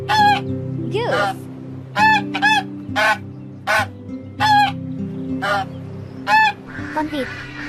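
A goose honks repeatedly in loud, evenly spaced calls, some doubled, standing alone with no talk over them.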